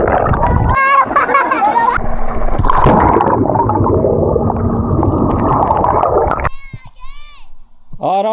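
Children bathing and splashing in water outdoors on a farm in extreme summer heat, with loud gurgling and splashes mixed with children's voices and chatter, then a brief quieter stretch of squeals near the end.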